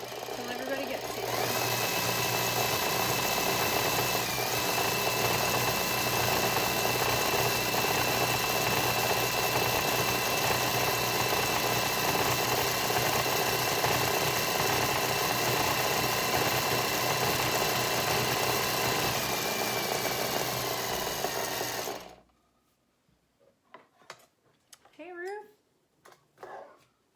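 A sewing machine winds bobbins at high speed, a steady loud whir that runs unbroken for about twenty-two seconds before stopping abruptly, after which a few faint thumps and handling noises follow.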